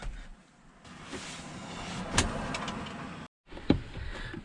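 A car rumbles past close by, followed by more passing traffic after a brief drop-out; steady road noise throughout with no talking.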